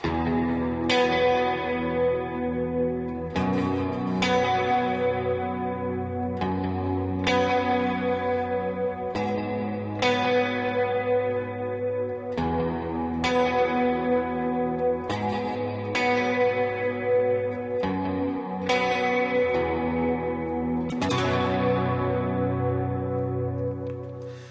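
Electric guitar chords on the middle position pickup ring out one after another, washed in heavy reverb with a shimmering chorus and echoing delay repeats, smooth and spacious.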